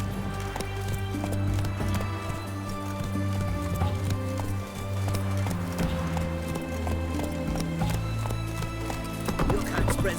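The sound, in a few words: Roach the horse running in The Witcher 3 video game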